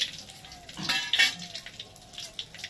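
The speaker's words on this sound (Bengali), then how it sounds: "এবার এই তেলের মধ্যে দিয়ে দিচ্ছে 2টো তেজপাতা, এখানে আছে ছোট এলাচ, দারচিনি আর গোটা গোলমরিচ" Bay leaves, green cardamom, cinnamon and whole black peppercorns sizzle in hot oil, a soft crackling hiss near at hand with a few faint spoon-and-pan clinks, no talking.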